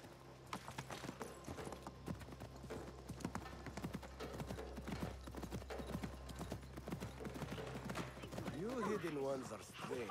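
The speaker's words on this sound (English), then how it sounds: "Oh, we're riding horses?" Horses galloping in the video game Assassin's Creed, a rapid steady clip-clop of hooves with a whinny near the end, heard under game dialogue and ambient sound.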